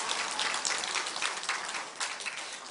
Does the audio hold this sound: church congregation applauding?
yes